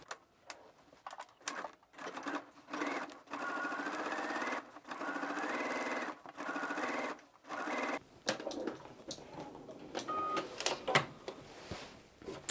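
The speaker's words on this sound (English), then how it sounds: "we're gonna add our second row of stitching" Sewing machine running a second row of stitching on a dress, in a series of close, moderate bursts of fast mechanical whirring broken by brief stops, ending in softer handling clicks.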